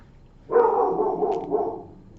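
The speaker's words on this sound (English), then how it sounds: "My dog is barking." A dog barks once in a drawn-out, yowling bark, followed by a shorter second bark, fairly close and loud with no talking.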